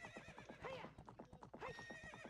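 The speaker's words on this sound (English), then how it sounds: "we got a horse" A horse in a Zelda video game, heard as steady clip-clop hoofbeats with two bright whinnies rising over them, close and loud throughout with no talk.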